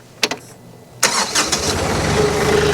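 A tractor engine cranks over in a few short bursts, then catches and settles into a steady, fairly loud running rumble close by, with no talking.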